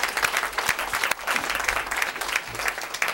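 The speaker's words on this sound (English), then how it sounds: "Let's hear a round of applause for our team." Audience at a board meeting bursts into a round of applause for the award-winning team, dense steady clapping that carries through the whole stretch without letup.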